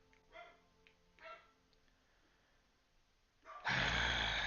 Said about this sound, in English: It's freaking dogs. Never shut up.